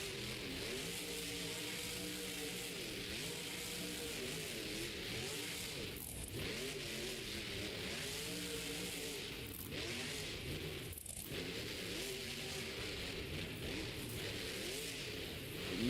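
A monster truck pulls a wheelie at a Monster Jam arena event in Albuquerque, its engine roaring loud and continuous with revs that swell and dip repeatedly, with no talk over it.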